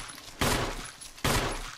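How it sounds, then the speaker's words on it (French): Pistol gunshots in the Resident Evil video game: two sharp, loud shots about a second apart, each with a short decaying tail, and no talking over them. "Bon, je vais essayer de l'avoir au pistolet."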